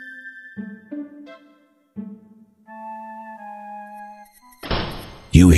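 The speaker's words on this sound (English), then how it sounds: "You hear the latch fall into place again as the door closes behind you" A door in the King's Quest II remake swings shut after a run of simple synth notes, with a short burst of noise and a solid clunk as the latch drops into place at the end.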